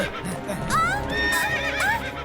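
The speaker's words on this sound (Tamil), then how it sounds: "நிறுத்து நிறுத்து, அந்த குதிரையை நிறுத்து" A horse whinnies twice in quick succession, loud and close, with faint hoof clatter underneath.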